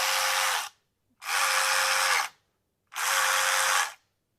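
A Milwaukee M12 FUEL extended reach 3/8-inch cordless ratchet runs in three loud, steady bursts of high-speed whirring, each about a second long. Short silences separate the bursts as the trigger is pulled and let off.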